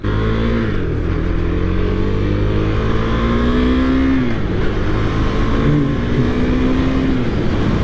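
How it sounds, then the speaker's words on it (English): A 2023 KTM 390 Duke single-cylinder motorcycle engine, about 390 cc, revs loudly and close up, its pitch climbing and dropping in several pulls over a steady, throaty idle. "So this is a single cylinder engine, around 390 cc's."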